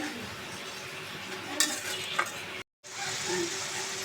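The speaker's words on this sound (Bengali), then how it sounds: "এখন আমি মশলা সুন্দর করে কষিয়ে নিব" A spice paste frying in oil as it is stirred, with a constant crackling sizzle, a couple of metallic utensil scrapes against the pan, and a brief moment of silence before the sizzle returns.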